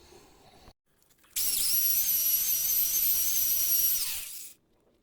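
A high-pitched power tool whines steadily for about three seconds while cleaning the bolt holes of a rear wheel hub on a Toyota Yaris 2, then winds down and stops.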